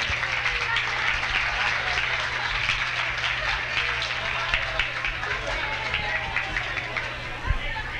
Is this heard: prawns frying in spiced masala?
no